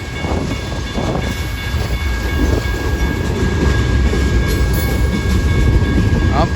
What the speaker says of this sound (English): Oh, there's the end of the one train.